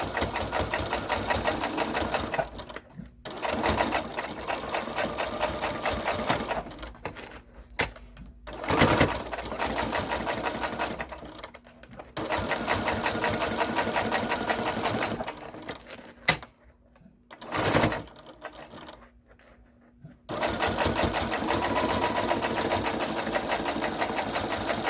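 A sewing machine stitches through many thick layers of fabric at a long stitch length, making a steady close whirring hum. It runs in long stretches, broken by several short pauses.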